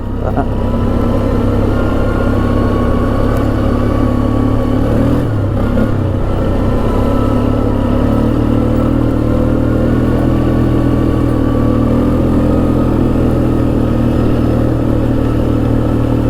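A 1996 Polaris Sportsman 500 ATV engine runs steadily throughout a test ride, a loud, continuous mid-pitched drone with small shifts in throttle and no talking.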